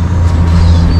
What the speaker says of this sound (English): Let me wait till the truck passes. It's a little bit noisy.